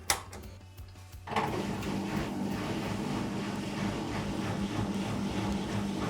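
Twenty-year-old washing machine starting its spin cycle: a click and brief hum, then a motor that kicks in and runs as a steady, moderately loud mechanical whir with faint rhythmic pulsing.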